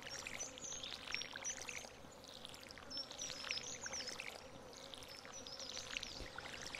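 Watering crops in the Stardew Valley video game produces a series of short, soft splashing pours that repeat every second or so, quiet and steady with no talking.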